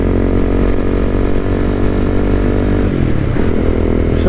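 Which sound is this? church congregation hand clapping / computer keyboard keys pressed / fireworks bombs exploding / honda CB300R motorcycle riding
honda CB300R motorcycle riding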